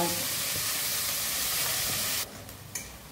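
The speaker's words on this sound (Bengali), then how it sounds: "এবার এটাকে ভালো করে বেশ গোল্ডেন ব্রাউন করে এটাকে ভেজে নিতে" Onion fries toward golden brown in a pan for chicken kolhapuri, a loud dense hiss that drops sharply partway through, followed by a quieter sizzle and a couple of small knocks.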